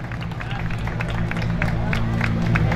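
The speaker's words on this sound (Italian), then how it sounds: "ancora un grande applauso, perché davvero se lo meritano" A crowd applauds at a rally award ceremony, steady mass clapping over a low rumble of crowd noise and voices, building slightly over a few seconds.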